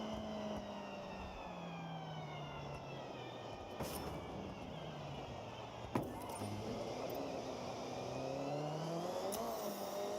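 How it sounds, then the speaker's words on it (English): A car engine in the racing video game Forza Horizon 6 revs and shifts through gears, pitch rising and dropping repeatedly, with a few sharp clicks along the way. "this car sounds so good"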